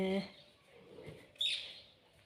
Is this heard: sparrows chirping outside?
yes